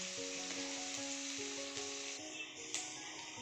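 Onions fry with five-spice panch phoron for a cauliflower and potato bhaji, a soft, steady sizzle heard up close under faint sustained tones.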